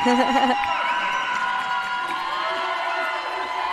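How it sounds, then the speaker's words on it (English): A crowd at a gymnastics competition cheers and whoops while scores are awaited, a loud, busy roar of many voices that fades slightly after the first half-second. "The crowd very hyped."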